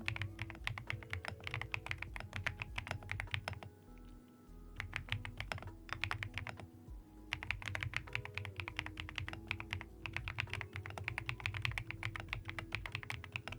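Continuous typing on a thocky mechanical keyboard fitted with marshmallow keycaps, with dense, steady keystrokes close up that pause briefly twice before resuming.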